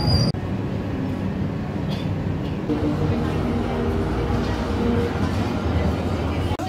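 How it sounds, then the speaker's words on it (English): Rumbling interior of a moving, crowded Melbourne tram, steady rolling noise with a murmur of passenger chatter in the background. "how busy is this tram?"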